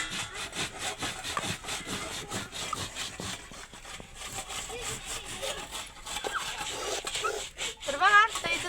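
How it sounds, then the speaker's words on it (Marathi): Soaked rice being ground by hand on a stone grinding slab, a steady rhythmic scraping and rubbing of stone on stone, close and fairly quiet, repeating throughout. "तर बघा इथं चाललेलं आहे तांदूळ पाट्यावर वाटून घ्यायचं."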